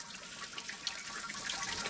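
Sparge water runs and trickles steadily onto the grain bed of a Karlstein Mundschenk XXL mash tun during a wheat beer brew. The flow is a soft, continuous splashing hiss with no voices.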